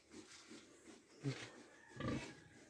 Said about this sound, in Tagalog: Yung baboy namin mabait